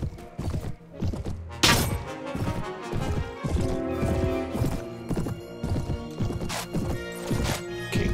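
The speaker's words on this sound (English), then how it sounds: "my horse is about nearly dead" Galloping horse hooves clopping steadily in Mount and Blade: Viking Conquest battle, loud and continuous with thuds, crashes and a brief whinny mixed in.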